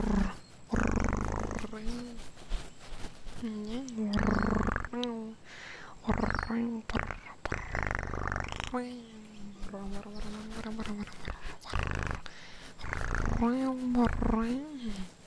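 A voice imitates a cat's purr in long, low rumbling stretches broken by short gaps, close and intimate, with no words spoken.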